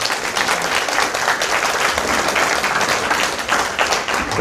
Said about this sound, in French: Les applaudissements vont vers eux.